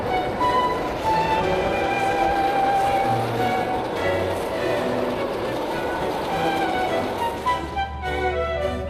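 A Long Island Rail Road train on the Montauk branch rumbles steadily along the rails, a continuous loud roar with squealing metallic tones and rhythmic clatter from inside the car.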